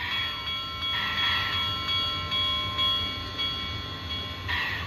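Sound-decoder bell on a brass Sunset Models Southern Pacific AC-9 2-8-8-4 oil-burning model locomotive, a steady repeating electronic ring that runs through the whole clip, fairly loud and alone over a low mechanical hum, with no voices.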